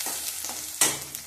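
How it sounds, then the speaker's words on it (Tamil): Small and large onions with green chillies being sautéed and stirred in a pan, producing soft sizzling with a few scraping stirs and a sharper burst near the end, close and without talk. "நல்லா வதக்கி விட்டுறலாம்."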